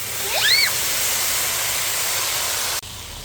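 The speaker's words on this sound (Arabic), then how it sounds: "هلا رح نحط المي" Hot water is poured into a pot of seasoned rice cooking over high heat, giving a loud, steady rushing hiss that cuts off abruptly just before the end.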